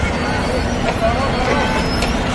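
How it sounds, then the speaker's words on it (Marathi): Buses idling and moving at the Vijayapura bus stand in northern Karnataka, a loud continuous engine rumble with brief hisses, heard under someone talking. "विजापूरचं बस स्टँड आहे."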